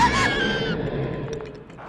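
A cartoon scream in an animated fairy-tale series, loud and strained at the start, then fading into a rougher, breathy cry with a few sharp accents near the end.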